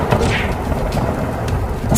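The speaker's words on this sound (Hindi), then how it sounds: "अचानक पास के पेड़ पर तेज बिजली कड़की" A thunder crack in a heavy rainstorm, a loud close rumbling burst over dense rain noise that fills the whole short moment.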